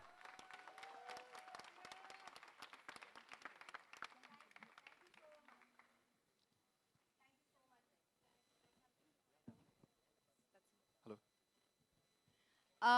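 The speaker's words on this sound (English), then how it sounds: "Can we have everybody applaud?" An audience at an ocean festival in India applauds with dense, lively clapping for several seconds, then it dies away into near silence broken by a few scattered noises.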